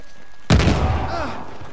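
A single loud gunshot blast from the video game Uncharted: The Lost Legacy, a sharp boom followed by a ringing, rumbling tail, with no talk over it.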